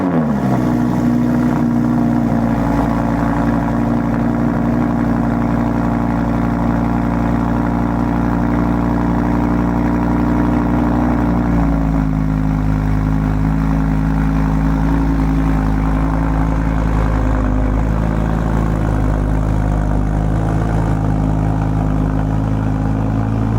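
A Lamborghini Huracan engine idles loud and steady at close range, with a deep rumble and a clear shift in pitch partway through as the idle settles lower; no voices are heard.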